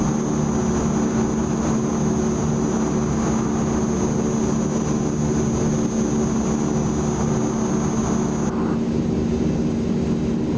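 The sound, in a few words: Transall C-160R aircraft engines in video game MSFS 2024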